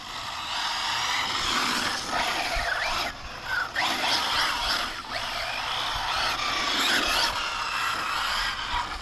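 An Arrma Felony 6S electric RC car driving hard, its loud high-pitched motor whine and drivetrain buzz rising and falling continuously as it speeds and turns outdoors, with no talk.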